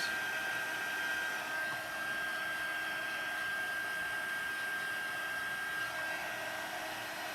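A heat tool blows a steady, loud airy whir over a card, melting gold embossing powder from matte to shiny; the even hum runs unbroken for the whole stretch with no talking.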